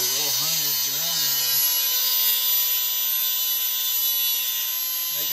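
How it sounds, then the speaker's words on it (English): A small handheld Dremel rotary tool grinds on metal in a car build, a steady high-pitched whine close by, with a few brief words at the start. "Hunter's going to start grinding on this with their little Dremel."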